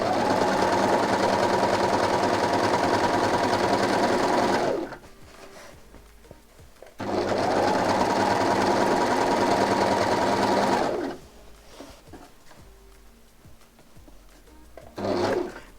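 A sewing machine stitching a skirt seam runs in two long steady bursts of dense, rapid mechanical whirring, each about four seconds, close and loud, separated by quiet handling noises and a brief restart at the end.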